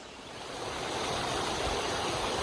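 Little Niagara, a small waterfall running low at Oklahoma's first national park, gives a steady, broad rushing wash of falling water that swells slightly and then holds even, close and alone.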